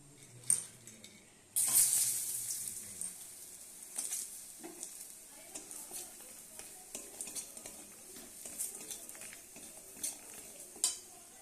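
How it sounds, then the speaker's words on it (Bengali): Lentil dumplings (bori) fry in a pan with a steady, soft sizzle, broken up by scrapes and clinks of a stirring utensil against the metal. "এবার আমি এখানে বড়ি নিয়ে নিয়েছি বড়িটাকে ভেজে নেব"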